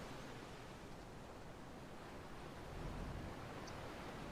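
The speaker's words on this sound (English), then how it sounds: "Nice to hear the waves crashing in the background." Ocean waves breaking at a coastal spot, a steady broadband wash of surf that swells slightly near the end, fairly faint and continuous with no voices.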